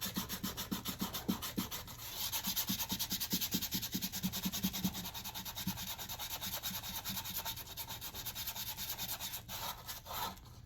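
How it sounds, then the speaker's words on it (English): Sandpaper rubs against a cracked wooden vase spinning on a woodturning lathe, a steady rasping hiss with rhythmic strokes early on and a continuous rubbing texture after, close and alone. "And we're going to do a little bit more sanding."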